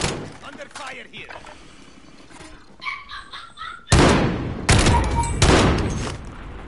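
Video game gunfire in a squad shooter: scattered faint shots early on, then several loud, close bursts of automatic fire in quick succession, with players talking over it.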